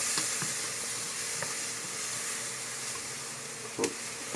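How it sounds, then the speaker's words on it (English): Vegetables sautéing in oil with a flour roux for a vegan Louisiana gumbo, a steady close hiss and sizzle with occasional faint clinks of a utensil against the pot. "We're going to go ahead and saute this for a good 3-4 minutes until it starts breaking down quite a bit"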